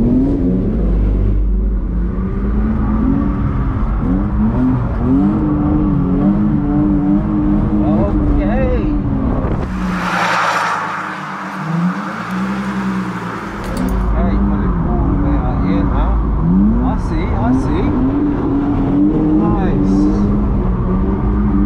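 A Dodge Hellcat engine revving hard during power-slide drifting, heard from inside the car as a loud, wavering roar that rises and falls with throttle, with a brief dip mid-clip and voices talking over it.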